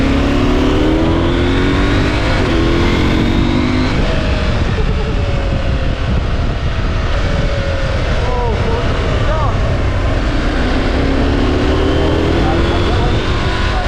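A Husqvarna Norden 901 motorcycle's 889cc parallel-twin engine with a 285-degree crank revs loud and close, pitch rising and falling in repeated sweeps over a steady low rumble for about fourteen seconds.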